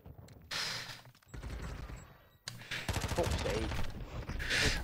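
Gunfire in the tactical shooter Rainbow Six Siege, with bursts of rapid automatic fire and single shots broken by short gaps, loud and close, under a player's voice.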